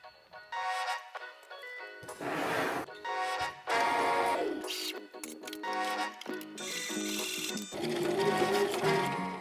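A home sewing machine stitches a shirt in several short bursts of rapid mechanical whirring, each run stopping and starting again, heard close with quiet pauses between.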